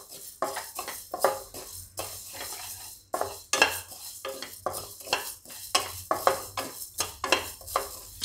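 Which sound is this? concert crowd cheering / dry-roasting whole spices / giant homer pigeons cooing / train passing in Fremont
dry-roasting whole spices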